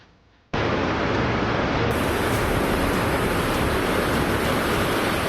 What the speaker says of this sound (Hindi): ये तस्वीर यूपी के हरदोई की है, जहां गर्रा नदी में आई बाढ़ सड़क को बहा कर ले गई।